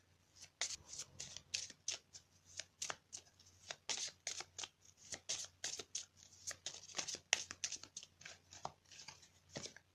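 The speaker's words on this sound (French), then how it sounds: "On va compléter le tirage donc avec une carte du tarot du bien-être de femme actuelle." Tarot cards are shuffled by hand in quick repeated riffles and flicks, a brisk crisp rhythm close up and fairly quiet, with no voice.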